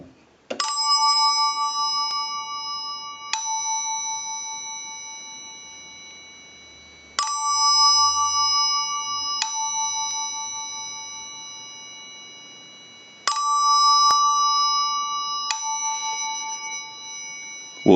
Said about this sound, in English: We'll start on our chime side.